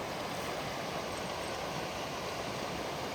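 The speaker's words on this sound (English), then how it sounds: "Coming up here on a stream." A stream at Potholes State Park in Othello, Washington, flows into a reservoir, producing a steady, broadband rushing and gurgling of water heard close and continuous with no voices.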